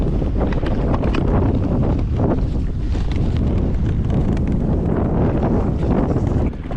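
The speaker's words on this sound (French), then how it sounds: "en 10 minutes la mer s'est formée, le vent s'est levé" Strong wind buffets the microphone at sea during kayak fishing as conditions turn rough, a loud, continuous roar with gusty rumble and surging water noise throughout.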